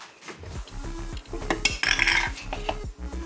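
Minced chicken being scraped out of a food chopper bowl, giving quick scraping and clinking of utensil against the container in short uneven bursts, close and moderately loud with no talking.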